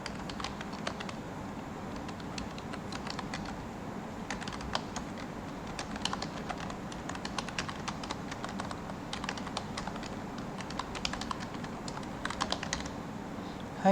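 Fingers type steadily on a computer keyboard, filling the whole stretch with quick, close clicking keystrokes in irregular bursts, with no talking.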